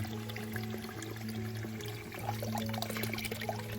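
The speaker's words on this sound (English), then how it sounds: "Nothing more exciting than a freaking fresh bit of water and a very steady stream." A steady stream of fresh water pours and trickles along a long-distance hiking trail, a close, continuous splashing flow under a low steady hum, with no talking.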